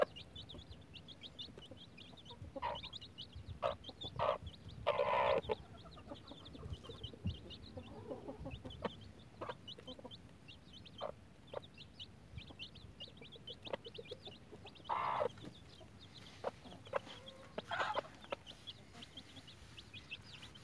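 A hen with five-day-old chicks clucks in short, scattered bursts across a quiet farmyard, with soft peeping and rustling between the louder calls.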